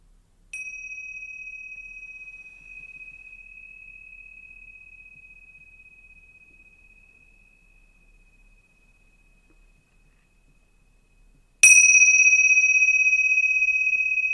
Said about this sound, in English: I'll ring these tingsha bells 3 times.